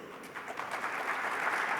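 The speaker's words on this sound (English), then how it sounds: "That's worth applauding" Applause from a panel-discussion audience at a literary festival in Lahore, a steady, moderately loud wash of clapping that swells slightly and holds through the moment.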